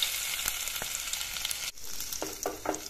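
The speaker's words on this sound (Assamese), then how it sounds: "অলৰেডি কেৰাহীত মই তেল গৰম হ'বলৈ দি দিছোঁ।" Oil sizzles steadily in a hot wok with garlic, cloves and cardamom frying, crackling bursts and a few stirring clinks, close and clear with no talking.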